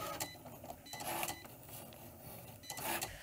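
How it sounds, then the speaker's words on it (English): A Cricut cutting machine cutting out a design, a quiet, close mechanical whir with short bursts of motor and carriage movement repeating over a few seconds. "I'll just hit the go button here and it'll cut out my design."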